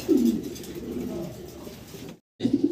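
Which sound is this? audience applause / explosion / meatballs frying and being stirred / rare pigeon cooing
rare pigeon cooing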